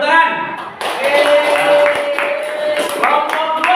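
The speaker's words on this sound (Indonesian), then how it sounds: "Ya, sudah tepuk tangan." Group of students clapping hands in a classroom during a teacher training session, a dense burst of claps running throughout, with voices talking over it.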